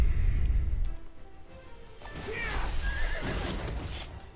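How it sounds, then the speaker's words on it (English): Horses in the Onslaught strategy game, Grim Peaks level, give a loud whinny over a busy battle din, with hoof clatter and crashing noise around it and no talk. "The horses are gonna take out Queen Akeshru"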